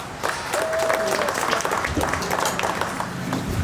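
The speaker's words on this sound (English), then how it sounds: "Would you please give him a round of applause?" A crowd applauds at a county 4-H and FFA hog show, many hands clapping in a full, steady burst that stays loud throughout, with a few voices faintly underneath.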